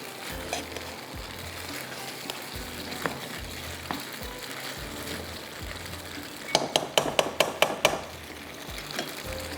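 Chicken is stirred into a thick sauce in a pan, giving a low steady sizzle with scraping strokes, then a quick burst of sharp clinks as a spoon knocks the pan.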